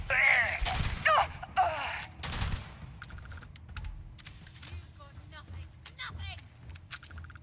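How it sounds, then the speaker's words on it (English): Short controlled gunfire bursts from a firefight in the space video game Starfield, sharp cracks clustered near the start and then scattered lighter shots and clicks, with voices heard between them. "Trying to do some short controlled bursts to save ammo, and then I missed."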